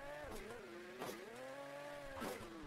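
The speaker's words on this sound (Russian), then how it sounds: "Вот такая вот новая тачка." Engine of a transforming car in the Hill Climb Racing 2 mobile racing game, a steady buzzing drone whose pitch dips and climbs again in waves, with brief brighter bursts about every second, heard alone without talk.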